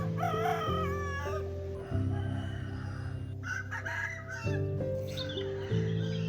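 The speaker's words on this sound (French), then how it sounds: "des coqs en liberté qu'on entend à longueur de journée" Several roosters crow in turn in Bali, one close and others farther off, over a steady low droning hum.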